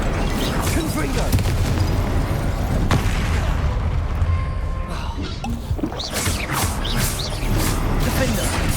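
Incendio and Confringo spells are cast during combat in Hogwarts Legacy, bursts of fiery whooshes and booming impacts with clanking and crashing, mixed with a voice talking over the action.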